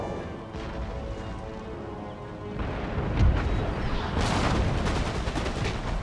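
Artillery volley booming in Empire: Total War, a dense rumbling wash of gunfire that swells after a few seconds with one sharper blast in the middle, layered and sustained rather than single shots.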